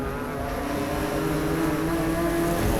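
BMW M4 GT4 race cars racing side by side at Sebring, a sustained engine roar building slightly in loudness as the cars pass, with no voices.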